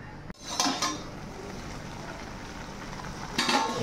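A covered pot of leafy greens with fish comes to a boil, giving a steady, soft bubbling hiss with a clatter near the start and another burst of clinking toward the end.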